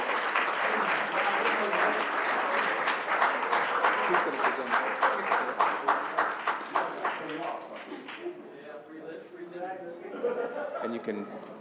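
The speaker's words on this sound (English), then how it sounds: "let's again give them a round of applause" A board of education meeting audience breaks into loud, sustained applause with cheering and some laughter, the clapping thinning out toward the end as people begin talking over it.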